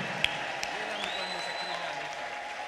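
A church congregation ululating and clapping in praise, high trilling cries and scattered handclaps rising under a preacher's voice.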